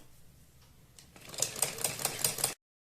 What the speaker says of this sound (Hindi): अब हम बुकरम के बिल्कुल बराबर में पूरे गले पर इस तरह से सिलाई लगाते चले जाएंगे।